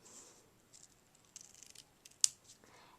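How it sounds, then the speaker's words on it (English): Sharp scissors cutting paper, a few quiet, crisp snips spread over a few seconds, with one sharper cut standing out near the end. "you're so impressed that my scissors are sharp"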